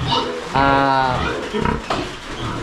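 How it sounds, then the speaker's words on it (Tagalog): Two young female pigs on a farm, grunting and squealing close by in short, rough bursts, one drawn-out tonal squeal among them, with some voice underneath. "Yung dalawa nating baboy na dumalaga"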